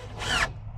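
A power drill whines as it starts screws into a wood block while a run-in shelter is built: one short, loud burst of the motor, then another beginning right at the end.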